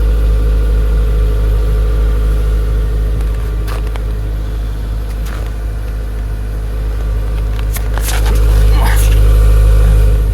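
A 2011 Kia Sorento idles after a cold start on a snowy day, a steady low engine rumble heard close by that swells slightly louder near the end.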